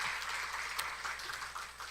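A church congregation at a special early-morning revival service applauds, making a brief, faint wash of clapping with a few sharper claps standing out.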